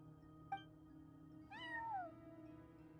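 A cat meows in Genshin Impact, with a tiny chirp followed by a clearer, drawn-out falling meow, both faint over a low background hum.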